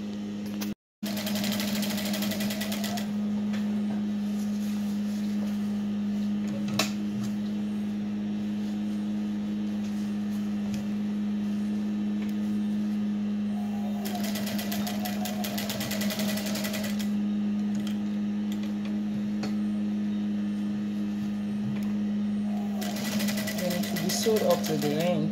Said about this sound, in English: So we are going to continue now sewing on the main fabric.